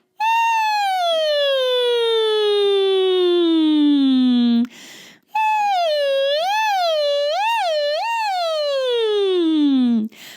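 A singer's voice imitating a siren, a clear tone sliding down steadily, then after a short breath wobbling up and down quickly before gliding low again, loud and close.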